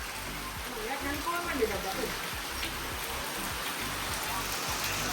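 Heavy rain falls in a steady, loud hiss across the whole stretch, with faint muffled voices underneath.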